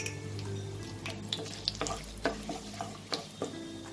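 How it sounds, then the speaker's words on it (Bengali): Whole spices, bay leaf, small cardamom, cloves and cinnamon, frying in hot oil for a Bengali mutton kosha, a quiet sizzle broken by several sharp crackles and pops as they hit the pan. "তেজপাতা, 3টে ছোট এলাচ, 2টো লবঙ্গ আর একটু দারচিনি ফোড়ন দেব।"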